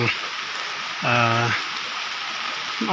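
Rain falls in a forest setting with a steady, even hiss throughout; a short voice-like tone rises briefly near the middle, and another starts at the very end.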